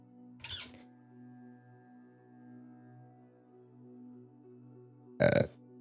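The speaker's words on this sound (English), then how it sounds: "Confirmation burp of whatever I'm about ready to say, apparently." Two short, close burps from a person, one near the start and a louder one near the end, separated by quiet low hum.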